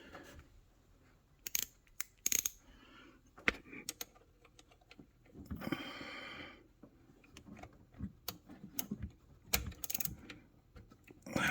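A wrench works on a fitting on a Lotus Elise, giving close metallic clicks, ratcheting and scraping taps in irregular bursts, with a louder rattling stretch in the middle.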